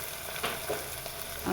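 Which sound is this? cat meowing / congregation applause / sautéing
sautéing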